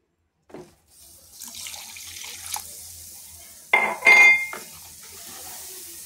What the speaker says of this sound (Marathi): आता पाणी घालायचं